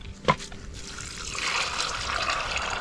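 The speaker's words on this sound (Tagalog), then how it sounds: "At yung ating mani naman, lagyan natin ng tubig" Water poured from a container onto peanut plants in a farm garden plot, a steady splashing trickle that builds after a brief thud and continues close and fairly loud without talk.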